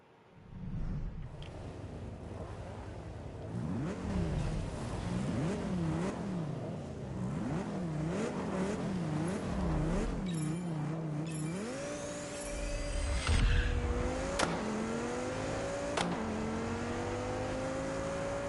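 Game car engine in Test Drive Solar Crown revving and sweeping up and down in pitch as it drives and corners, with a steady rising whine near the end; loud and continuous with no talking.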